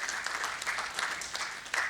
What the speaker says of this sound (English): Can we have a huge round of applause for him as well?